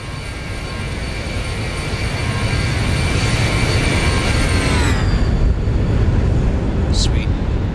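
A Boeing 737 makes a flyby in a flight simulator, its jet engines giving a loud, steady roar and whine whose pitch sweeps downward as it passes.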